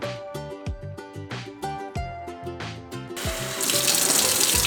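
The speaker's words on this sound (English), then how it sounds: "Wash the sweet rice under cold water until the water starts to run clear." Cold tap water runs while sweet rice is washed, a steady splashing flow under background music, the rush growing louder and fuller near the end.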